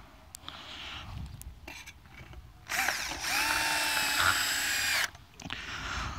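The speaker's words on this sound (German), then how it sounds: "Akkuschrauber." A cordless screwdriver drives large-washer-head screws into the feet of a camping satellite dish stand, with a short whirring burst and then a longer steady whine that stops abruptly, close and loud, with quieter knocks and handling noise before it.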